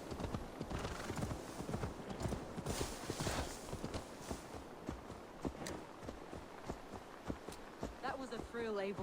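A horse's hooves clip-clop rapidly in a steady galloping rhythm in Assassin's Creed Valhalla, with a whinny near the end and a voice speaking over the hoofbeats.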